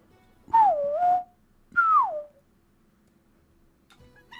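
Whistling recorded into a microphone and processed with a robotic filter, giving a buzzy, synthetic edge: a swooping dip-and-rise tone followed by a shorter falling whistle, both close, then near silence.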